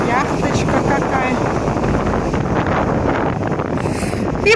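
A Meteor hydrofoil speeds past on the river in St. Petersburg, a loud steady rushing roar with wind buffeting the microphone, continuous over several seconds.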